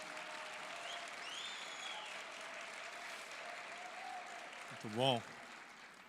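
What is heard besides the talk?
audience applause welcoming pastor Renato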